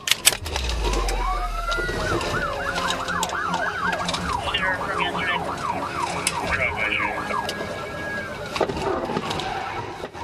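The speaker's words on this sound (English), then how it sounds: "the sound of police sirens blared, and tires screeched on the pavement as the police chased the suspect's vehicle speeding dangerously" Police sirens wail loudly in a rapid rising-and-falling pattern during a high-speed car chase, over constant traffic and engine noise.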